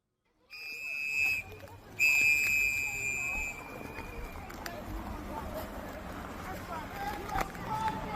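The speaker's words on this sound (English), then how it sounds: "the sound of whistles filled the air" Shrill whistles blast from nearby, several long piercing tones in a row, then fade under a confused crowd murmur and scattered voices.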